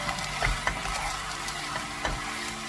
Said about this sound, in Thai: แล้วก็น้ำมันหอยค่ะ เราก็ผัด